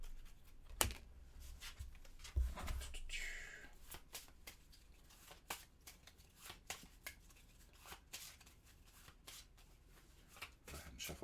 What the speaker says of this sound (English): You shuffle them up